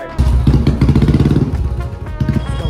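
A Bullet motorcycle rides past with a loud, close, thumping engine note, a rapid throbbing beat that briefly eases, then picks up again, with no talk over it.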